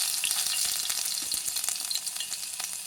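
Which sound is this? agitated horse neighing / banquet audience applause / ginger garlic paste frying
ginger garlic paste frying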